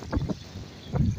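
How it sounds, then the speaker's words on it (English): Wind gusting at Mendenhall Glacier near open water with icebergs, heard as low rumbling buffets across the microphone that swell, ease briefly and swell again in two bursts. "It's kind of a windy day"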